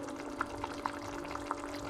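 Water trickles and pours softly into a pot of sausage curry as it cooks, a low, faint liquid sound broken by small splashes and no speech over it.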